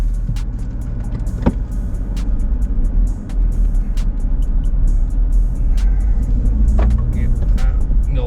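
Steady low engine rumble of a car driving, constant and close, with occasional clicks and faint talk over it.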